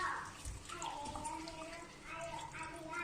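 Organic rose petals washed in water, with faint splashing and trickling heard softly in the background under a voice speaking throughout.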